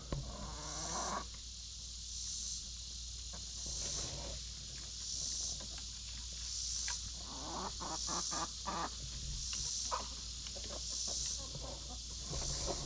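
Chickens cluck and murmur softly in an enclosed space over a steady background hum, with a regular faint high chirping repeating throughout.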